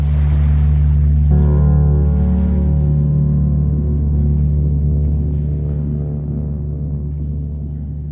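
Storm-tossed sea surf roars loud and steady beneath a low droning hum, the wash of water constant throughout and easing slightly toward the end.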